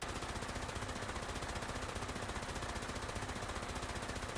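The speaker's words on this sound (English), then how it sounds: "Okay, then I have the Gatling laser." Rapid, continuous Gatling laser fire from the video game Fallout 76, a steady, even burst of repeated shots that holds at a constant level throughout with no talking.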